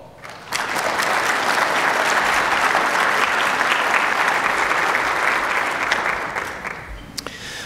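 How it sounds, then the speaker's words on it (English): Loud applause from a large conference audience starts abruptly and holds steady for several seconds before fading out. "Please join me in giving a warm welcome of applause"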